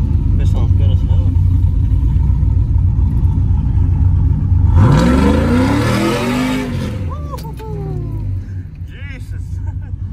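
Cammed 5.3 V8 revving through a new exhaust, a loud rumbling idle that climbs into one big rev around the middle before settling back, with voices talking over it.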